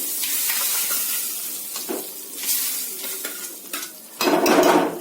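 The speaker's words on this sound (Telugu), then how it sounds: "ఈ తయారైన కూట్లోకి మీరు కలిపేసుకోండి." Fried tempering is stirred into a pot of kootu, producing a close, steady sizzle and scraping spoon strokes that swell into a louder hissing rush near the end, with no speech.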